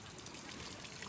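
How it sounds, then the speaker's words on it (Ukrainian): Water trickles down from above at an attraction in car-free Zermatt, Switzerland, a faint, steady splashing dribble with no voices. "Водичка стікає, десь звідти, вище."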